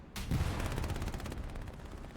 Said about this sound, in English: Angry PPSH noises.